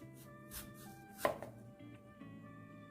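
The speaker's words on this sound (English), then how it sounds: "Gonna add some apple slices in my dish just to garnish it a little. Very thin slices." A knife slices an apple into very thin slices on a quiet kitchen counter, with one crisp, distinct cut standing out against soft background hum.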